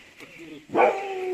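A single sharp dog bark rings out close by, followed by a short tonal whine, with soft background voices.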